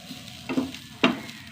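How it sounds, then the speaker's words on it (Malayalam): Coconut and chilli stir and fry in a pan, with two short scraping, sizzling strokes over a quiet background. "വറുത്തെടുക്കട്ടെ."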